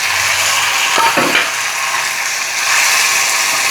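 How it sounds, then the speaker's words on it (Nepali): Tomatoes hit a hot pan, a loud steady frying sizzle with a brief clatter and scrape of stirring about a second in, close up with no talk. "म अब टमाटर पनि राख्छु"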